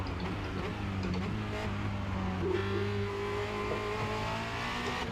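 Formula Renault 2.0 race car in a racing video game on the Charlotte Motor Speedway Roval, engine note steady and loud with harmonic tones shifting downward as it slows for a corner under braking, no voices.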